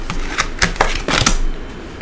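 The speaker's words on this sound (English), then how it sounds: "One more shuffle and I'll pull from the top" Tarot deck being shuffled by hand, a rapid series of crisp riffling card clicks and flutters in several bursts, close and alone.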